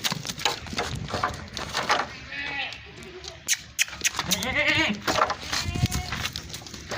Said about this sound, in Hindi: माशाल्लाह बड़े साइज़ की बड़े पेट की बकरी है